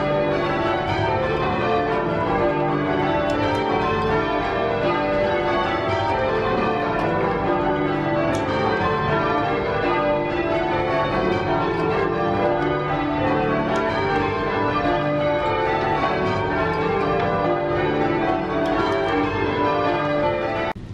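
Heavy church tower bells at St. Mark's in Center City, Philadelphia, cast by the Whitechapel Bell Foundry in 1876 and 1878, ring changes in a dense, continuous, overlapping peal that stays loud and steady throughout.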